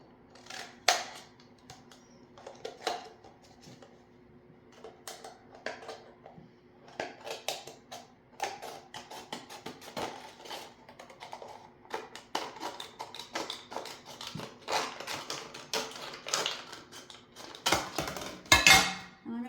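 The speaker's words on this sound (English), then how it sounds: "So I'm going to cut it down. Just going to use the scissors." Repeated sharp plastic snips and clicks from scissors cutting a plastic holder, irregular and close, with small rustles and handling noises between cuts.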